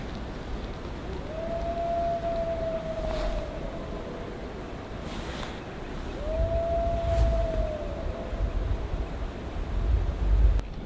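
A wolf howls in the wild on North Island, two long, steady, drawn-out howls sounding at a distance over faint outdoor background noise.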